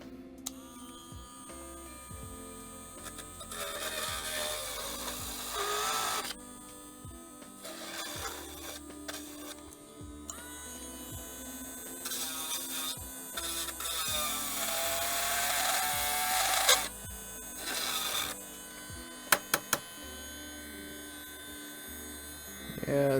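A handheld Dremel rotary tool cuts into a Nintendo 3DS case, its motor whining steadily with high grinding bursts over a low mains hum, pausing and restarting several times across the stretch.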